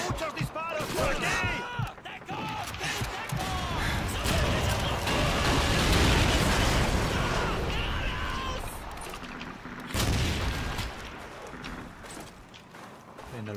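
Gunfire and explosions from the WWII shooter Call of Duty 2 on PC, a base-defence battle: continuous loud bursts of shots and booms fill the whole stretch, with a heavier blast near the end, under shouted soldier voices.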